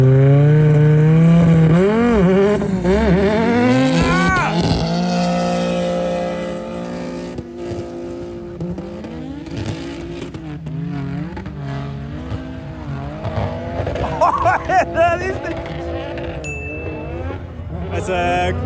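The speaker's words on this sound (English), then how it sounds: "We have M3 G80 X-Drive versus LCE Audi S1 Bike Speed." A BMW M3 G80 xDrive and an Audi S1 drag race on a ski slope, engines roaring loud and close through repeated rising revs and gear changes, with a crowd and commentators talking underneath.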